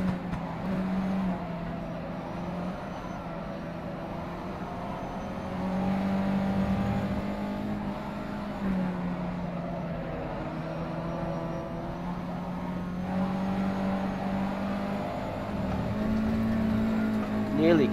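A Mazda USF 2000 race car in rFactor 2 laps Lime Rock Park, its engine a steady droning whine that rises and falls with gear changes and throttle across the whole stretch.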